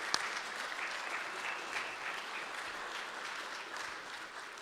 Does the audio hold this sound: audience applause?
yes